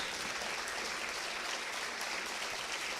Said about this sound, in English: Give a round of applause and standing ovation to Group Captain Shubhanshu Shukla.